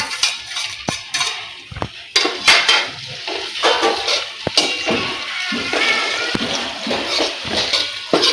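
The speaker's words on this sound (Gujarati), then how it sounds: "ખજૂર એડ કરીશું અને અંજીર એડ કરીશું" Dates and figs dropped into a pan and stirred, giving repeated scraping and clinking of a utensil against the pan, close and fairly loud, with no talk.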